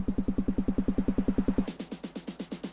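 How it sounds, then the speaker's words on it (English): Electronic dance music build-up sample with a fast, steady pulsing beat that tightens and brightens partway through, rising in intensity, loud and alone without voices. "This is the sound of build up."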